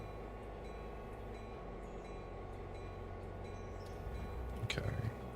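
A DMU diesel multiple-unit train in a train simulator game, a steady low engine drone and rail rumble throughout with a brief louder clatter near the end, no talking.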